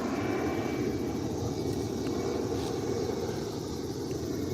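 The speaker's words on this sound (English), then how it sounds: "Wait for the plane to pass." Propeller or jet airplane droning overhead as a steady, loud low rumble that fills the whole stretch without fading, with no voices over it.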